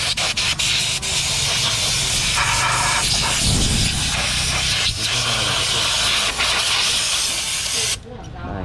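Compressed air hisses steadily into a Suzuki motorcycle engine during repair of a no-start fault, a loud continuous spray that cuts off near the end, with a voice talking over it.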